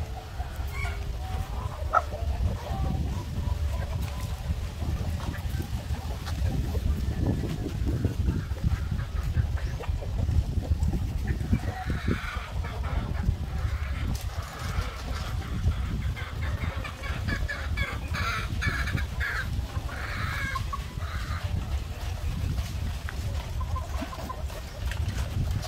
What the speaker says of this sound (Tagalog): ito yung mga white leghorn natin na mga babae